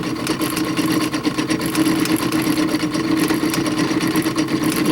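A drill press set up as a milling machine runs with its bit turning, a steady droning hum with a gritty cutting texture that stays loud and even throughout.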